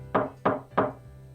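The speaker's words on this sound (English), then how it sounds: "someone knocks lightly at the door" Three light, evenly spaced knocks on a wooden door in the game Code: Realize, crisp and close, followed by a quiet pause and the start of a fourth.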